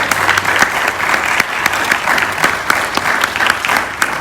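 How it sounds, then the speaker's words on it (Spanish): Church congregation applauding during a sermon, steady dense clapping throughout with a crowd murmur underneath, loud and close. "Debo ponerle las palmas a Él."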